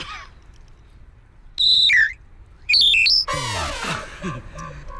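A whistle blown in a few sharp, wavering bursts that slide off pitch, loud and close, followed by a burst of animated voice-like sound.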